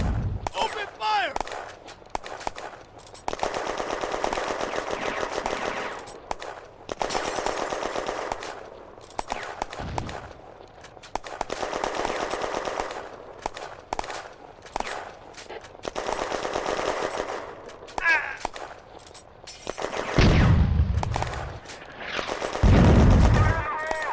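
Sustained automatic and rifle gunfire crackles in dense bursts from an infantry attack across open ground on an industrial-zone enemy position in May 1940, with heavier booming blasts near the end and voices mixed into the din.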